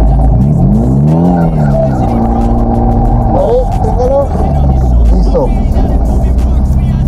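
A car drifts at a driving course with the accelerator floored and the engine held at very high revs, roaring loudly with tire squeal and shifting pitch while someone talks over it.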